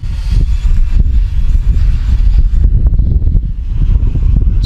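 Loud, constant wind buffeting on a flying Xiaomi Fimi A3 drone heading into the wind, a rough low rumble with gusty bursts that fills the whole stretch, with no voices.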